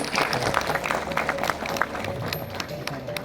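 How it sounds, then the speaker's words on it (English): Sustained applause from a crowd for people on stage, many hands clapping together in a continuous wash of sound, with some murmur underneath. "Can we have a round of applause for everyone on stage"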